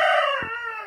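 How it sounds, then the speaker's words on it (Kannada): A brief, clear call from a chicken, a single drawn-out harmonic cry lasting under a second, near and fairly loud against a quiet background. "ಇಲ್ಲಿ ಕೋಳಿಗಳ ಶಬ್ದ"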